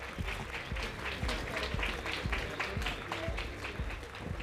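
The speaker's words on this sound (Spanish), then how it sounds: "Los periodistas aplaudieron." Journalists applaud at a press gathering, sharp individual claps forming a quick, fairly dense rhythm that stays moderately faint and is heard alone.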